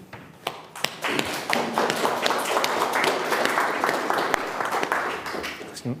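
An audience claps after a talk in a government data event: scattered taps grow into a steady wash of applause that carries on for several seconds, with a few louder individual claps.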